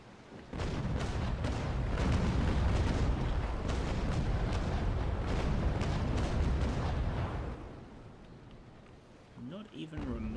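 Ship cannon fire in the Naval Action naval game, a loud rumbling barrage of booms and blasts for several seconds that fades out near the end.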